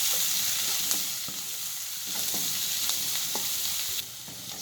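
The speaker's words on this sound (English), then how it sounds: "Saute it till the color changes." Chopped onions sautéing with cashews in a pan for chicken masala, a constant close sizzle broken by a series of light, regular scrapes and taps of the spatula.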